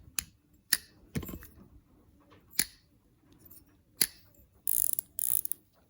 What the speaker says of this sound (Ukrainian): і переключається, крутиться назад і вперед. Взагалі класна катушка, мені подобається.